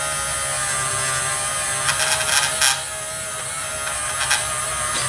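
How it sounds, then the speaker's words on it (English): A power polishing tool buzzes steadily on an AK action part, a high whining hum with brief scraping surges as the tool presses against the metal. "I'm gonna hit it with some polishing"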